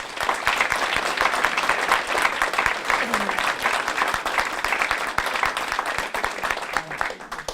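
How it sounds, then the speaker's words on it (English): An audience at a lunchtime garden memorial event applauds steadily and densely for several seconds, a continuous wash of many hands clapping at moderate loudness, with some voices mixed in. "give Kay a round of applause"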